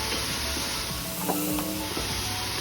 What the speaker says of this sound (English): Now I'm going to add in the onion and garlic